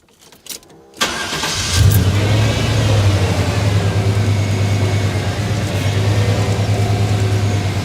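A 1989 Chevy K1500 Silverado engine idles steadily with a low hum while a whining power steering pump drone rises and holds as the wheel turns lock to lock, with occasional faint clicks, after bleeding and fitting a Magnefine filter.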